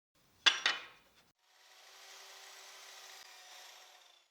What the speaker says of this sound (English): Now I'll cut off the excess on the ends.